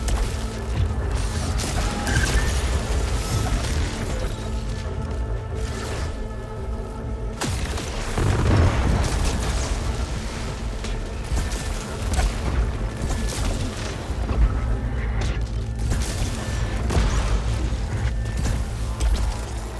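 Rocket launcher blasts in the video game Returnal boom and crash repeatedly over a dense, continuous bed of game music and mechanical effects, with a heavier burst of explosions standing out midway.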